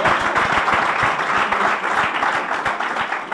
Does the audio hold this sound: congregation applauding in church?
yes